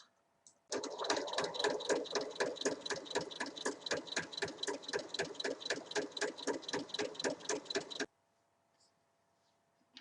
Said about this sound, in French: Et je vais venir piquer ici à 1 mm.